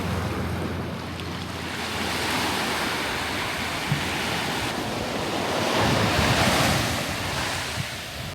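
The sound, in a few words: wind blowing on island coast with waves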